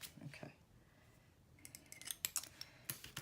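Scissors handled and slid out of a sleeve, giving a quiet rustle followed by a series of sharp metallic clicks and snips up close.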